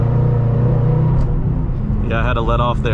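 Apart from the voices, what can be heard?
2014 Shelby GT500 engine revving, floored in third gear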